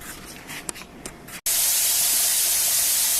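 A pressure canner holding turkey and broth vents a steady, loud rush of steam that runs on without a break, after a short stretch of quieter hissing with a few faint clicks and a brief gap.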